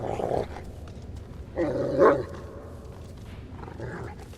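A dog in the video game Thief 4 gives a few short barks and a growl, spaced out over a low background hum, moderately close and loud.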